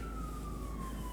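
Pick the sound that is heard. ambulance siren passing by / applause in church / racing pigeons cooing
ambulance siren passing by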